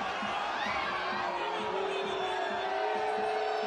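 A displeased stadium crowd at a soccer match between Monterey Bay FC and San Jose Earthquakes, a broad steady roar of whistles and jeers that carries on throughout.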